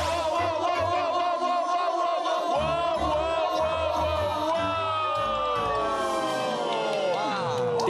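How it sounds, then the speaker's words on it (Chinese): A studio audience at a Cantonese variety talk show calls out a long, loud collective "wow" instead of applauding, many voices swelling and wavering together before sliding downward at the end. "请唔好用掌声，用哇哇声去欢迎综艺神之子何启华。"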